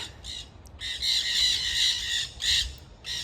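Parakeets at a beachside RV park in Malibu squawk in harsh, repeated bursts, several calls in quick succession with short gaps, fairly close and loud, with no talk over them.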